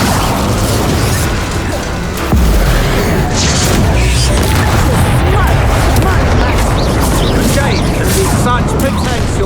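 Incendio fire spell cast during a wizard duel in Hogwarts Legacy, a loud booming burst with crackling blasts and mechanical clatter, heavy continuous combat noise and character voices throughout.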